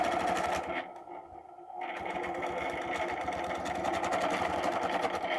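A sewing machine stitches an arc while quilting a triangle design, a steady rapid mechanical whir. It stops for about a second and then resumes, close and continuous, with no talking.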